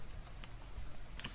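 A few faint clicks of typing on a computer keyboard, sparse and close, over a soft background hiss.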